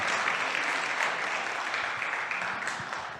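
A congregation claps together during a Sunday church service, a broad, even wash of applause that gradually tapers toward the end.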